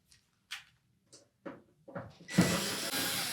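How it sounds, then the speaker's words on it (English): Number 2 Phillips screws come out of the rear access panel of a Samsung range: a few separate short metallic clicks and scrapes with silence between, then a louder rustling clatter as the panel shifts, close and fairly quiet. "we need to remove these 5 screws that secure that access panel"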